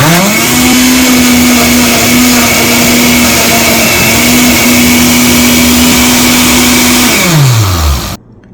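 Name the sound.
blender running on Smoothie Extract setting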